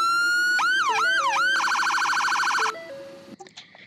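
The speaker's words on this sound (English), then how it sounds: "here are the sirens" A loud electronic police car siren in a Roblox game cycles through wailing sweeps, then a rapid warble, then stops abruptly, followed by a few faint clicks.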